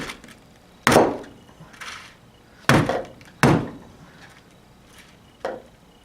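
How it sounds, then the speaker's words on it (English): A hammer striking a frozen, stiff Scrub Daddy sponge gives several hard, dull thunks, about four or five irregular blows with short decays between them, close and loud. "We'll hit this Scrub Daddy with a hammer."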